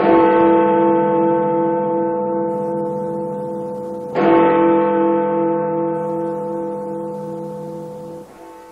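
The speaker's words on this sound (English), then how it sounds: "Chimes of Big Ben for midnight bring broadcasting to a close for today." Big Ben's deep bell strikes midnight over a radio broadcast, with three heavy, resonant tolls spaced about four seconds apart, each humming through a long fading decay with no voices.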